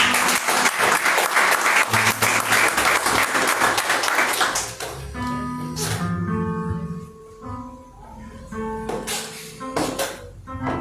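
Church congregation applauding during a family worship service, dense clapping that fades after about five seconds into quieter sustained tones, with a few scattered claps returning near the end.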